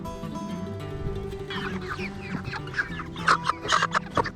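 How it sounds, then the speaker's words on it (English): Meat chickens cluck and squawk at a backyard harvesting setup, the calls rising into a burst of loud, close, agitated clucks over a constant low background hum. "Sam, you ready to get the first chicken?"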